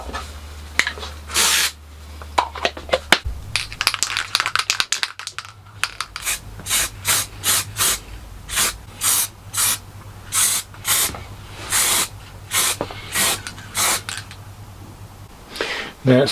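Repeated short bursts of texture spray from an aerosol can, about a dozen evenly spaced hisses, with a steady low hum running underneath for most of the clip.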